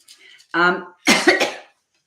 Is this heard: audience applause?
no